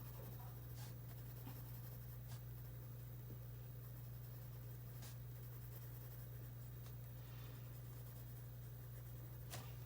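Colored pencil strokes scratching across paper, a steady soft scribbling texture that runs throughout, quiet and close, over a low constant hum with no talking.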